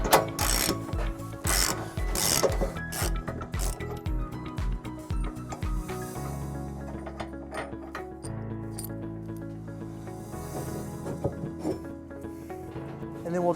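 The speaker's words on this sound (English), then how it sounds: "It's held in by this bolt that we'll remove using a 15/16 socket." A hand ratchet with a 15/16 socket loosens the receiver bolt on a 2016 Tesla Model S trailer hitch cross tube, giving quick runs of close, crisp clicking with metallic clinks and pauses between strokes.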